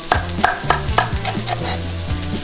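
Peppers sautéing in a pan for a summer seafood stew, with a steady sizzle and repeated rhythmic stirring scrapes, close and clear with no voices.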